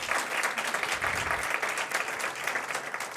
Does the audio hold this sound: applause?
yes